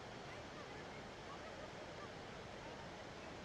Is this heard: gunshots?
no